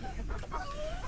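Hens about four months old, now laying, clucking softly at close range, a few short calls and a rising warble over a steady low background hum.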